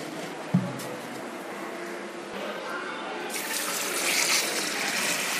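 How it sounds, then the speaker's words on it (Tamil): Water pours into a new fish tank during setup, a steady splashing stream that grows fuller and brighter toward the end, with a brief knock near the start. "ஓகே, இப்போ நம்ம தண்ணி ஊற்றும்."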